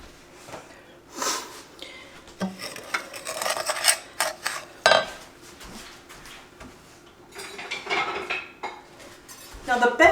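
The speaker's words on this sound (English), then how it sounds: "the best thing to mix this with at this point is a whisk" Egg yolks whisked in a bowl while making a coconut cream pie, giving bursts of rapid clinking and scraping against the bowl that start and stop across the stretch, close and moderately loud, with no talk.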